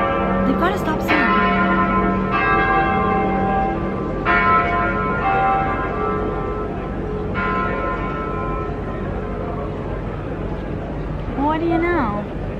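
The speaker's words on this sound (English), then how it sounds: "These church bells have been going off for so many minutes now." Church bells in Germany ring repeatedly in a slow, resonant peal that carries through the air, with someone talking over them.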